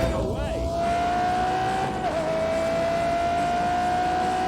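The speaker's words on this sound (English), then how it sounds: "I just love the sound of the LaFerrari." A high-revving Ferrari LaFerrari engine in The Grand Tour Game holds a steady, loud whine, briefly dipping as it shifts, with a voice talking faintly underneath.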